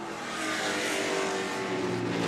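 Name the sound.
1978 Lola 298 race car passing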